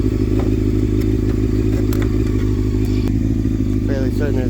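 A 2002 Honda CBR600 F4i motorcycle engine idles steadily at close range just after a cam chain tensioner install, a constant low rumble with occasional clicks and knocks over it and brief talk near the end.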